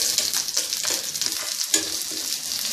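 Sliced medium onion frying in a tablespoon of oil, a loud close crackling sizzle with occasional stirring scrapes, no voices.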